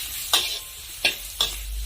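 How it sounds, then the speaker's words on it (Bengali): Spices sauté over a low flame while a spoon stirs the pan three times, each scrape a short, distinct sweep over a soft, continuous sizzle. "গ্যাসের ফ্লেম একেবারে লোতে করে দিয়ে মশলাগুলো আমি খুব ভালো করে কষে নেব"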